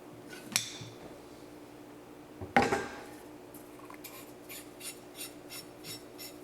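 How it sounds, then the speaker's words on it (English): A hand file works the weld buildup on a Remington 700 rifle part, fixed for extraction problems: two sharp knocks, then a run of light, quick, evenly spaced rasping strokes, close by and fairly quiet, with no talking. "So now all we're going to have to do is go do a little file work on that"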